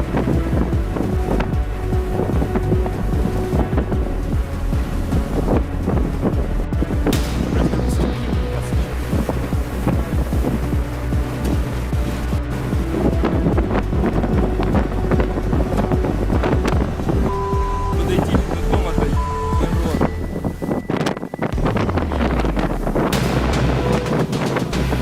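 Strong storm wind roars steadily across an open ship deck on the Atlantic Ocean, buffeting the microphone, with rumbling water and engine-like drone underneath throughout.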